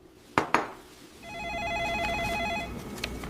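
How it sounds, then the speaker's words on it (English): A telephone rings from another room with a warbling electronic trill lasting about a second and a half, preceded by a couple of sharp knocks. "The phone is ringing in the other room."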